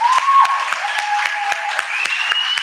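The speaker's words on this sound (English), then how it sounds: "Everyone please give another round of applause for Comrade Johan." Crowd at an outdoor housing-rights resistance rally applauding, a sustained patter of clapping with a few sharp individual claps standing out, plus whistle-like tones and cheering voices mixed in.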